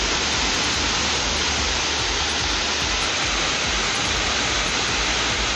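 Kumbakkarai waterfall in spate after days of continuous heavy rain roars as a steady, loud, dense wash of falling water, close and unbroken throughout with no voices.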